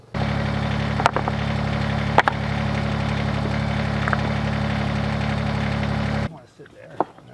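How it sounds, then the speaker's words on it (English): A tractor engine idling close by with a steady low mechanical drone and a few sharp knocks, cutting off abruptly near the end to leave quieter background sound. "we got the tractor."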